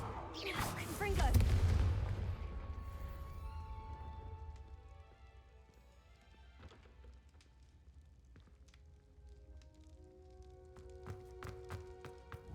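Confringo, a fire blast spell in the game Hogwarts Legacy, goes off as a loud booming explosion and then fades into crackling debris and scattered ringing taps, with the spell name shouted just before.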